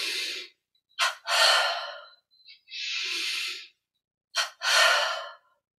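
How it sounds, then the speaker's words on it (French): Forceful breaths from a guided double-breathing exercise in a yoga and meditation session, heard as sharp paired inhale–exhale bursts in three rounds, each quick puff followed by a longer rush of air, close and loud with silence between. "on fait la double respiration."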